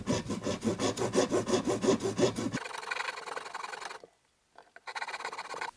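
StewMac Japanese fret saw cutting through an epoxy-glued fret joint, with quick rhythmic back-and-forth rasping strokes up close, then a rougher scraping stretch, a brief silence and a final burst of sawing.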